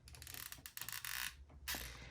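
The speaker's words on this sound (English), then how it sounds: "this is my squeaky glue gun" A squeaky hot glue gun squeals and ratchets in short bursts while deco mesh is glued onto a Christmas wreath, with grinding, creaky trigger strokes that are close and fairly quiet.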